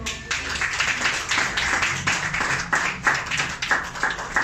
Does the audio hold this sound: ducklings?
no